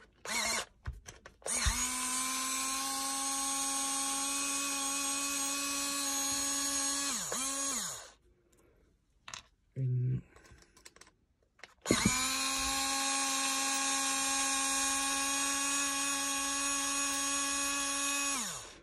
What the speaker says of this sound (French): pour aller plus vite, je vais utiliser la visseuse uniquement pour dévisser.